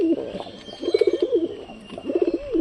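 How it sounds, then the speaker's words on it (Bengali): Domestic pigeons coo close by in two or three throaty, rolling bursts with short pauses between them and no talk. "আর আমার এইটা হচ্ছে বাড়ির সবার আগেকার পায়রা"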